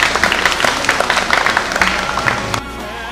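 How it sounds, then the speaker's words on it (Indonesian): Sustained crowd applause at an Indonesian school charity event, dense steady clapping from many hands that continues loudly and then drops off abruptly near the end. "Kita berikan tepuk tangan untuk kita semua."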